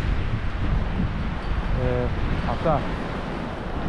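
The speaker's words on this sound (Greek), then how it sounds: "Ο αέρας δυστυχώς δεν έχει σταματήσει ακόμα." Strong wind buffets the microphone with a low, continuous rumble; someone speaks briefly over it.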